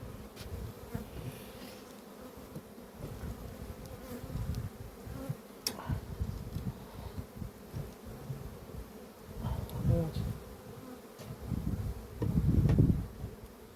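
Carniolan honeybees buzz steadily at an open hive during colony expansion before moving to rapeseed, a dense low hum swelling louder in places, especially near the end, with no voices.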